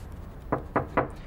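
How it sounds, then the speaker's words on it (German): Three firm knocks on a door, evenly spaced and close, sounding over a quiet room with no talk. "Lisa, jetzt mach doch mal die Tür auf."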